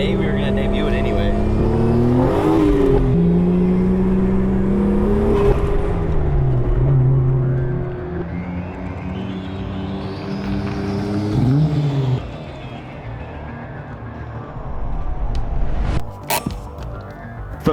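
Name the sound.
new drift car engine revving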